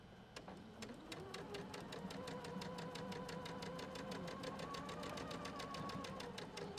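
A sewing machine stitching fabric, its needle running in a fast, even rhythm of clicks over a steady motor whine that rises slightly as it speeds up, close and continuous.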